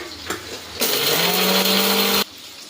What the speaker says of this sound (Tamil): இப்போ இந்த மசாலாலாம் மிக்சியில் போட்டு அரைச்சிக்கலாம்